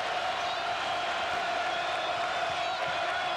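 Basketball crowd on its feet in Ames during an Iowa State home game against Kansas, a steady dense roar of cheering with a few whoops, no clear bursts.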